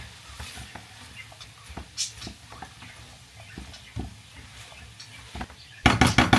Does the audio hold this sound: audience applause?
no